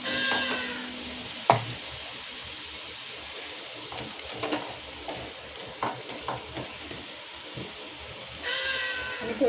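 Ground spice paste roasting in a pan for stuffed crispy pomfret, with soft intermittent stirring scrapes and faint sizzling over a quiet background, punctuated by a sharp clank and occasional meow-like cries.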